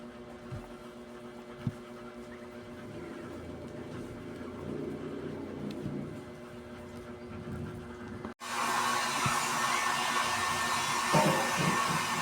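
A hair dryer drying freshly bathed puppies whirs with a steady low hum, then switches to a louder, higher rushing blow that continues to the end.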